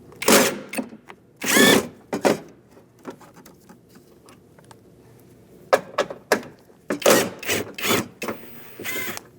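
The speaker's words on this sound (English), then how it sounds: "And we're going to go for these 4 spots. Again, using a 10mm socket." A ratchet or driver with a 10mm socket backs out the bolts of a car door panel in short whirring bursts separated by pauses, close up, with no talking.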